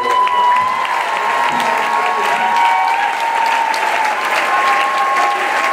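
A church congregation gives steady, sustained applause that fills the whole stretch, a dense wash of many hands clapping with some crowd noise and a faint tone running underneath.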